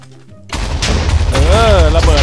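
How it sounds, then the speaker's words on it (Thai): Exploding TNT lucky block in Minecraft, a sudden loud blast that cuts in after a quiet moment and rolls into sustained booming noise, with a shouting voice over it. "มันระเบิดอ่ะพวกนี้เนี่ยมันเกรียนจริงๆเลยฮะ"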